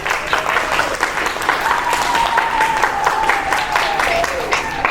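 A crowd at a book signing claps steadily for several seconds, dense and loud, with a few voices and a whistle-like tone rising above the applause.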